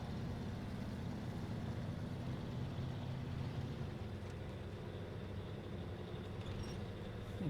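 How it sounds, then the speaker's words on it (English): A heavy truck engine drones and strains in the SnowRunner driving game, a steady low, loud rumble that holds throughout without letup and no voices over it. "Believe how hard it is to flip a truck over with another truck."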